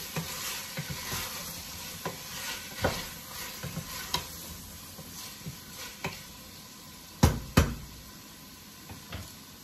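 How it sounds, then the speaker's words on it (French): Celery and chives being stirred into an okra and mushroom sauce, a soft sizzle under irregular scraping and clinking of a spoon against the pot, with a couple of sharper knocks near the end. "Je vais rajouter mes céleris et mes ciboulets. On tourne."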